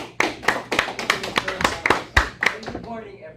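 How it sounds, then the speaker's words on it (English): A small audience at an engineering training program welcomes a speaker with sparse applause, distinct individual hand claps in a loose, uneven rhythm, close and crisp, fading out near the end. "A round of applause for Dexter Allen Takiwag"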